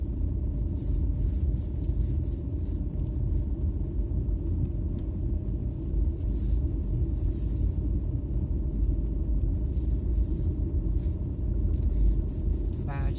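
A car rolls downhill along a road in the evening, with a steady, loud low rumble of engine and road noise filling the whole stretch without a break.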